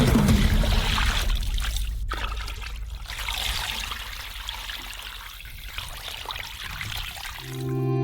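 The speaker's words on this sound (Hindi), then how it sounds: "स्टर्जन के टुकड़ों को कढ़ाई में भेजें, सिर को भी, और इसे पानी से भरेंगे।" Water pours into a cauldron holding pieces of sturgeon and a sturgeon head, a steady close splashing and trickling stream for several seconds, with no talk.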